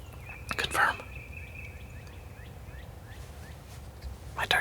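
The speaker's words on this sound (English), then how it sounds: "all the turkeys are now back in my decoys" Wild turkeys gobble near hunting decoys, two loud gobbling bursts at the start and end over steady outdoor ambience, with a soft whispering voice in between.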